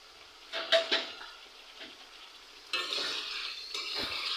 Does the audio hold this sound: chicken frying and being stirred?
yes